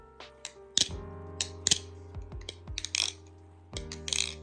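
A G10 Marcolo Comet balisong trainer flips through a series of sharp metallic clicks and rattles, irregular and close, with brief pauses between bursts.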